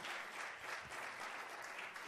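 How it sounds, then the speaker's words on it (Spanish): Applause fills a church service, a steady dense clapping from the congregation sustained at an even level throughout without any voices on top. "démosle un aplauso al Señor"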